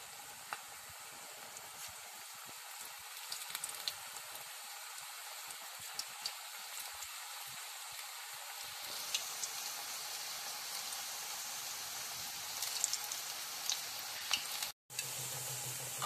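Pakoras deep-frying in hot oil, a continuous crackling sizzle with scattered pops, fairly close and steady, briefly cut by a short silence near the end; nobody speaks.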